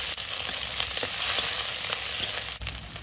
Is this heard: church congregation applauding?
no